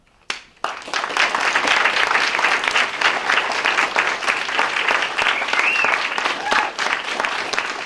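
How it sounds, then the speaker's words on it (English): Audience clapping during public comment at a school board meeting, a loud, sustained round of applause that bursts in after a brief pause and keeps going, with faint voices in the background. "we should not be clapping, snapping, or anything during public comment"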